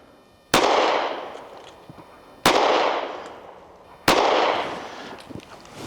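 Three sharp gunshots from an HK CC9 pistol, evenly spaced about two seconds apart, each a loud crack with a long reverberant decay, fired one at a time with no talking.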